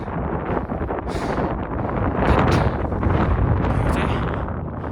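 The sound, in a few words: strong mountain wind blowing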